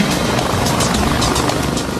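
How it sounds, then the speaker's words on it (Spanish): Steady, loud rotor thrum with a rhythmic chop, continuous throughout, like a helicopter flying close overhead. "Los helicópteros se agolpaban peligrosamente en los límites"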